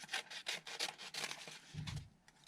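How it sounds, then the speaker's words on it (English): Trimming the backing off a children's book, close rhythmic rubbing and scraping strokes of a blade through paper and board, ending with a soft thump. "Let's just trim this backing off."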